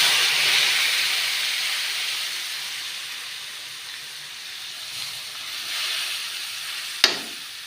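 Broth poured into a hot tempering of browned garlic, mustard seeds and asafoetida for manathakkali soup, giving a loud sustained hiss and sizzle that slowly fades, with a sharp clink near the end.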